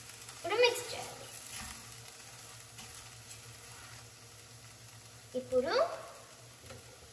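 A spoon stirs taro leaf and tomato curry in a frying pan, with two scraping, sizzling bursts over a faint low hiss of cooking, and a person speaks briefly.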